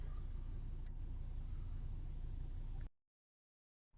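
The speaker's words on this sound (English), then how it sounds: "I'm going to start the car back up again" Volvo V70 D3/D4/D5 2.0 five-cylinder diesel with an automatic gearbox idling, a low steady rumble heard close and alone that cuts off abruptly near the end, leaving silence.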